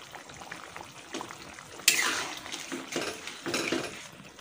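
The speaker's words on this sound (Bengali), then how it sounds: "আমি এই যে মাছগুলো এখন দিয়ে দিচ্ছি" Fish pieces dropped into a pan of simmering curry with bitter gourd set off a sudden burst of sizzling, then utensil clatter and a second softer sizzle, all fairly quiet.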